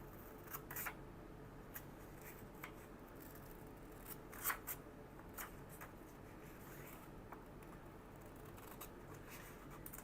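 Scissors snipping through paper during a 3D doodle art workshop, a few soft irregular cuts spaced across a quiet room, faint and close.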